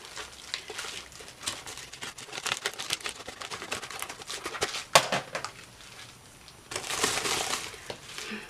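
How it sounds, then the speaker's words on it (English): Scissors cut open a paper ticket package, giving a close run of crisp snipping clicks and rustling crinkles that come in quick bursts with short pauses, with no voices. "I'm going to cut it open"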